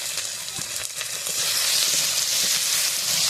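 Ginger paste and ground cumin-coriander fry in a pan, a steady close hiss that swells louder and fuller halfway through, with faint stirring underneath and no voices.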